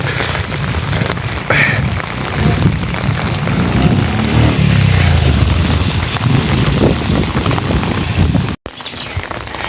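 Steady heavy rain pours on surfaces in Entebbe, Uganda, a loud continuous hiss and patter that fills the whole stretch with a brief cut near the end, no voices.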